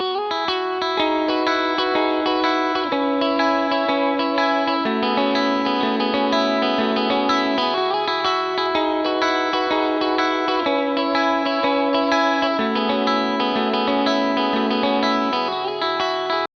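A bright, jangly electric guitar plays a repeating high chiming pattern drenched in chorus effect, steady and up front with no voices.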